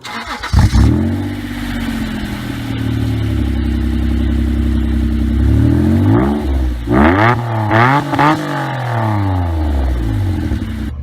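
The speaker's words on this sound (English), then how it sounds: "So I am now driving the NSX." A 1991 Honda NSX starts up, then its engine revs loudly as it drives off, rising and falling through several quick bursts of acceleration up close.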